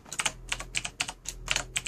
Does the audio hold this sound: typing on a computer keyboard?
yes